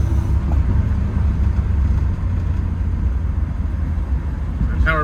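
A 1965 Ford Mustang with a 200 inline-six and five-speed conversion cruising in fourth gear, a steady low engine drone with road rumble throughout, loud and close from inside the car.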